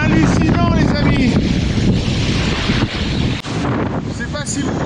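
Strong wind roars steadily and loudly into the microphone at a glacier in Norway. Someone talks under the constant blustery rumble.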